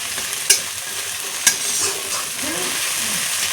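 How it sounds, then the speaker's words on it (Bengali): Crab brains stir-fried in a pan give a steady, close sizzle, with two sharp spatula clacks against the pan early on. "কাঁকড়া মাছের ঘিলু ভাজাটা।"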